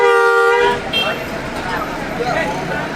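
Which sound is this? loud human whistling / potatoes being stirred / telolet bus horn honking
telolet bus horn honking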